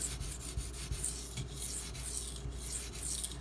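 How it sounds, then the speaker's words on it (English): A Spyderco Delica SG2 knife blade being sharpened at its existing angle, a series of close, rhythmic rasping strokes against the sharpener. "I'm just going to sharpen at the angle it's currently set at."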